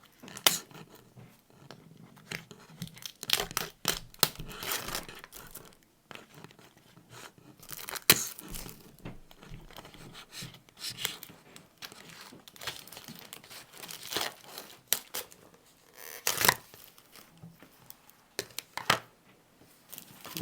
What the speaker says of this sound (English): now Alex is going to do the peel and see how it came out